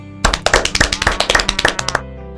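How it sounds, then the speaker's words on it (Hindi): A group of women at a community meeting claps loudly together for about two seconds, a close, punchy run of roughly rhythmic claps that ends abruptly. "सभी लोग अपने लिए एक बार जोरदार ताली बजाएं।"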